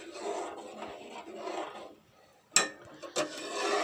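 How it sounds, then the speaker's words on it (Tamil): Dry sago pearls and cocoa powder being stirred together in a bowl for chocolate payasam, giving steady close scraping rasps that pause briefly before two sharp clinks and more scraping. "1/4 கப்பு கொக்கோ பவுடர் இதையும் போட்டு நல்லா மிக்ஸ் பண்ணி"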